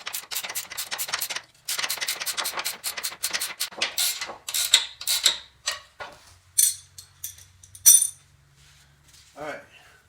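A ratchet wrench tightens a bolt while a chute blocker is fitted to a Ferris 52-inch mower. Rapid, close bursts of ratcheting clicks come first, then thin out into sparser metallic clinks.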